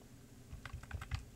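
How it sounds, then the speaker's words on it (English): Computer keyboard keys tapped in a quick run of light, close clicks, about six strokes over a quiet background, used for nudging audio during dialogue editing. "So I'm hitting those little keys."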